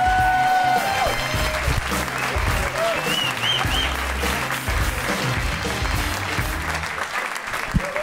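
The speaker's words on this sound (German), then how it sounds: "Riesenapplaus für den großartigen Cesar Karibik!" Loud, sustained applause from a comedy show audience for the comedian Cesar Karibik, dense clapping mixed with some cheering and whoops over the full stretch, with a presenter's voice briefly heard over it.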